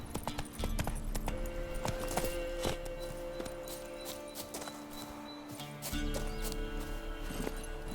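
Horse hooves clop steadily and briskly for the whole stretch, with a game soundtrack's tonal music layered underneath, as the horse Roach gallops in The Witcher 3.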